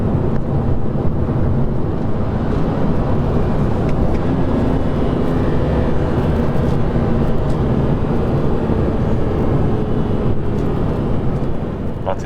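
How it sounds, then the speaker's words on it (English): A BMW E46 M3 with a CSL intake, driven at around 40,000 miles, gives a steady low engine drone under road and wind noise from inside the car, constant throughout. "You can hear the engine wanting to make some noise."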